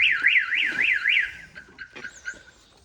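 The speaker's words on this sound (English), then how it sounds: "So there is a serious alarm on this car" A Toyota Caldina's car alarm wails in a rapid rising-and-falling siren, five quick sweeps, then drops to a steadier tone and fades under scattered background clatter and voices.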